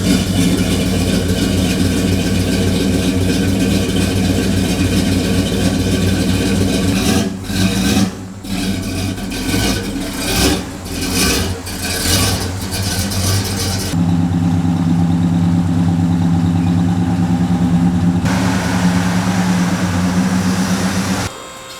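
Several car engines idle steadily and loudly close by as the cars are pulled out, with a turbocharged 8th-gen Honda Civic Si among them; the rumble shifts in pitch partway through and then settles into a lower, even idle.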